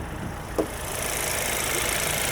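Turbocharged 1.5-liter engine of a 2025 Volkswagen Taos running on a winter drive, a steady, smooth, fairly quiet hum and road rumble inside the cabin, with one faint brief click early on and no talking.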